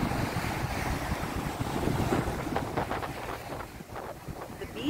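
Surf on a beach at Cancun, Mexico: a steady roar of breaking waves mixed with wind noise buffeting the microphone, continuous and fairly loud.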